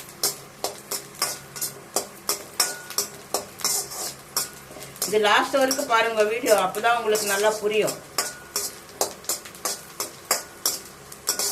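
Garlic sautéing in a pan for Andhra-style lentil powder, with regular metallic scrapes and taps of a spatula against the pan, a denser burst of stirring midway, and a voice talking over it.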